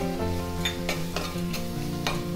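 Spices with coriander powder sizzle and sauté in a hot pan with a steady fry, broken by a few soft stirring scrapes; there is no talking.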